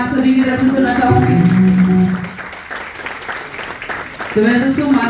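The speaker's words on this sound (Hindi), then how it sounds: "जोरदार ताली आप सभी की तरफ से सुनना चाहूंगी।" A crowd's audience applause rises as a dense patter for about two seconds, framed by an amplified voice and music just before and after it.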